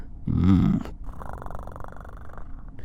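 A voice imitates a cat's purr in a short, loud rumbling burst, followed by a quieter, breathy murmur.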